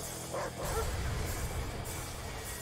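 Attack dogs in the video game Command & Conquer: Red Alert 3 let out a few barks and yips, mixed into a rumbling battlefield din with vehicle noise.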